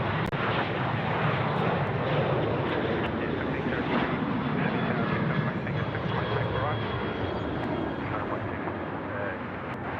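A Jetstar A321 airliner lands at Sydney Airport, giving off a loud, broad, continuous roar throughout, with voices talking over it.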